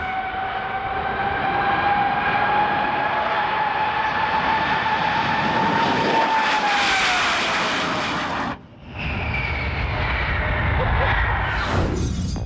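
A jet-powered truck roars close by with a loud, sustained turbine whine that shifts in pitch, surges midway, drops out briefly and then resumes.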